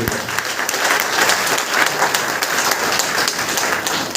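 Loud, steady applause from an audience at a DXN business meeting in Basti, dense clapping filling the hall throughout without a break.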